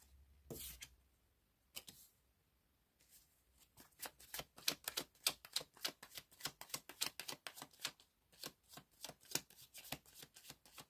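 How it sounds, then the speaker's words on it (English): Tarot cards being shuffled by hand, with bursts of rapid crisp riffling and flicking, some cards flying out, in irregular clusters of close, sharp snaps after a couple of brief isolated flicks. "Cards are certainly flying out."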